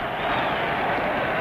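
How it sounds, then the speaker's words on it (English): Boxing crowd at the Dempsey versus Carpentier fight roaring wildly, a dense, loud wall of cheering and shouting sustained without a break through the brief moment. "The crowd goes wild as George tries to press his advantage."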